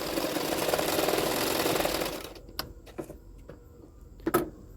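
Sewing machine stitching a seam on a blouse, its rapid steady whirring rattle running for about two seconds, then stopping and leaving a few faint clicks and handling knocks.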